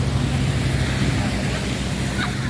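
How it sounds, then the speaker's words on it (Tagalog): Heavy surf rolls steadily at a beach near Tsing Kau Bridge in Tsuen Wan, a constant loud roar of breaking waves mixed with wind buffeting the microphone, with no clear pauses. "Lakas ang alon."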